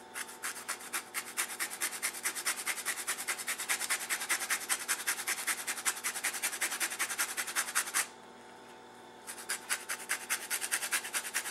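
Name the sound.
grating orange peel for zest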